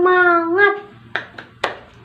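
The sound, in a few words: class doing the tepuk semangat clapping chant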